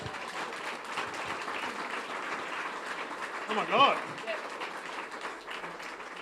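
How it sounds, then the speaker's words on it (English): A library audience at a live author talk breaks into applause, a dense patter of hands that swells briefly in the middle, with a few voices speaking over it. "give Dave a clap"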